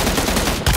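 Rapid single-fire gunshots from PUBG Mobile, a dense burst of loud, sharp reports packed close together, with a brief dip before a final heavy shot.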